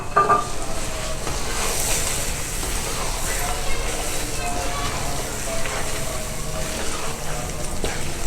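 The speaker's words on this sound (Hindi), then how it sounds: "अब हम इसमें हमारे बादाम और काजू का पेस्ट डालेंगे।" Almond and cashew paste goes into cream frying in a pan while cooking shahi chana. A steady, close sizzle runs throughout, with faint stirring scrapes over it.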